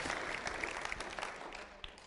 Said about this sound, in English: go ahead, clap for him